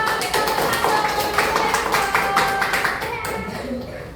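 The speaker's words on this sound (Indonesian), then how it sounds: "mari kita tepuk tangan dulu untuk kelompok 2" Schoolchildren in a sixth-grade classroom clap together for a presenting group, a busy burst of overlapping hand claps that gradually thins and softens toward the end.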